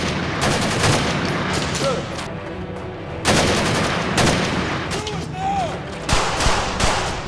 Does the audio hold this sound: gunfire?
yes